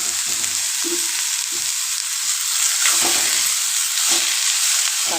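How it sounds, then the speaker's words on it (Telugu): Chopped onion and green chilli fry in hot oil in a kadai, giving a steady close sizzle with intermittent stirring scrapes and clacks throughout, and no talking. "స్టవ్ మీద కడాయి పెట్టి ఆయిల్ వేసుకొని, ఆయిల్ వేడయ్యాక ముందే కట్ చేసి పెట్టుకున్న ఆనియన్,"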